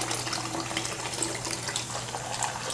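Water sloshes and splashes in a sink during a young child's bath, a steady close wash of running and moving water lasting a few seconds, without voices.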